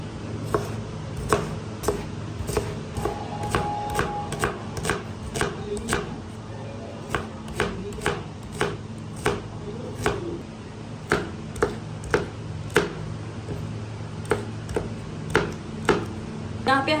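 A knife chops garlic cloves, green chillies and medium onions on a board for chicken tikka karahi, with steady, evenly spaced sharp taps repeating over a low kitchen hum.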